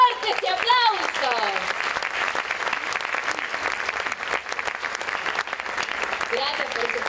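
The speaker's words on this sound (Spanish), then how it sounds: "¡Fuerte ese aplauso!" Theater audience applauding loudly at a musical theater awards event, a dense, sustained roar of clapping with cheering voices rising over it at the start and near the end.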